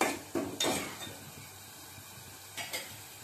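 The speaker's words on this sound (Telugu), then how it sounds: "కరివేపాకు వేసి వేపాను అనమాట" Curry leaves and green chillies hit hot oil with a few sharp crackling sizzles, followed by a quieter steady fry and a couple of later spits from the pan.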